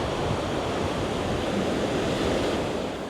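Ocean waves wash onto a beach at night, a loud, continuous roar of surf and foam with wind noise, steady from start to finish.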